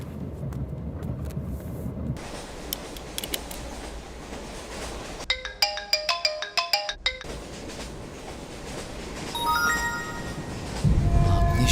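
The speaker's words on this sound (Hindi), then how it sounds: "पापा का फोन आ रहा है पर फोन चार्ज नहीं है।" A mobile phone ringtone plays mid-scene as a tonal melodic ringing burst of a few seconds, set among low background rumble and scene noise, with no speech.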